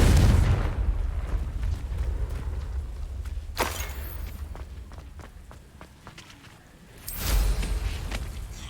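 Confringo blasting spell explodes in the Hogwarts Legacy video game: a loud booming burst opens, then a sharp crack mid-clip and a second heavy blast near the end, with scattered impacts and rumbling effects between them.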